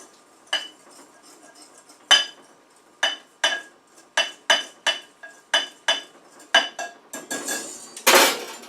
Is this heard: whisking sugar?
yes